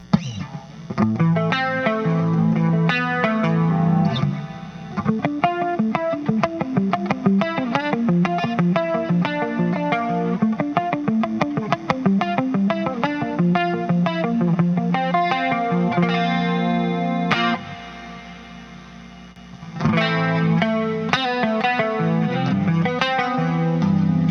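Electric guitar played through a BOSS chorus pedal, CE-2W or CE-5, with distortion, a shimmering, wavering chorused tone in loud, close riffs and chords, two brief dips in level, no talk.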